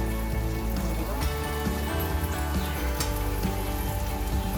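Raw banana slices shallow-fry in a pan of oil, giving a steady crackling sizzle throughout with scattered pops and light scraping.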